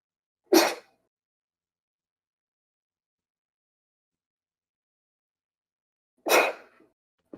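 Two separate sneezes, sharp and close, about six seconds apart, with dead silence between them.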